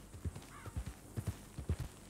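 A horse in Red Dead Online, a Fox breed, walks with a steady clip-clop of hooves, paired soft knocks repeating about twice per second, close and fairly quiet, with a brief faint whinny-like tone early on.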